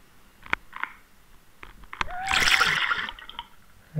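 A fishing cast lands in the water during speckled trout fishing, giving a brief rushing splash and slosh after a few small drips and clicks, fairly close and quiet, with no talking.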